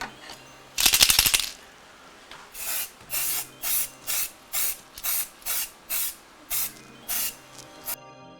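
Chalky 3D scanning spray hissing from an aerosol can in one long burst followed by about ten short, evenly spaced sprays, close and clear with no talking.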